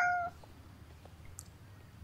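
A cat in the horse-riding video game Star Stable gives one short, clear, high meow right at the start, and quiet ambient game sound follows.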